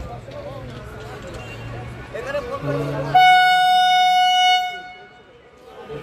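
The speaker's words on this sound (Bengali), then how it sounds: "ট্রেনটা ছেড়ে দিয়েছে, ট্রেনটা আসছে দেখো সামনে" A train horn blares loud and sustained for about a second and a half at a station near a busy market, rising out of crowd chatter and voices, then fading back into the bustle.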